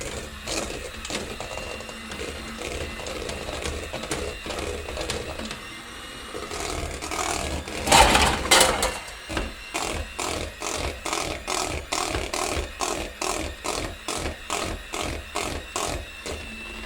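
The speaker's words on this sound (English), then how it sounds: "Now we will use an electric mixer." An electric mixer whips potatoes with milk, starting with a brief louder whir and then settling into a regular, pulsing mechanical chatter that repeats steadily at close range.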